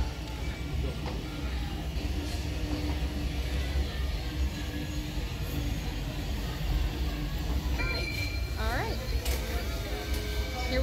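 Ride cars of Mickey and Minnie's Runaway Railway rolling past on the track, a steady low rumble with clanks and bright squealing tones near the end, under crowd chatter and a busy indoor din.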